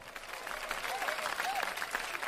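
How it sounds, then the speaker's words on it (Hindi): An audience at a Hindi comedy and poetry show applauds with a soft, steady patter of clapping. The clapping is faint and distant, and a voice briefly sounds over it. "तालियां तालियां भाई, हमारे लिए भी तालियां"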